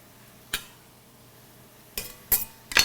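A metal utensil clanks against a pot while Bolognese sauce is stirred, giving one sharp knock and then a quick cluster of three scraping clinks, each short and close, with near silence in between.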